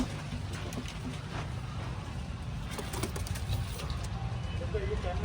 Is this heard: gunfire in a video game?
no